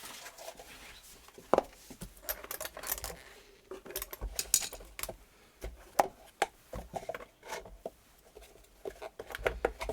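Keys of an IBM Beamspring 3277 keyboard clicking close by in irregular bursts of sharp, bright snaps, some louder than others, over a quiet background with no talking.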